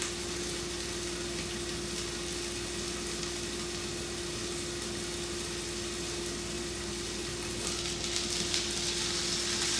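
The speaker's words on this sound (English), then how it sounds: "It has started sizzling." Uttapam batter sizzling on a hot pan over fairly high heat, a steady faint crackling hiss that continues without pause and grows slightly livelier near the end.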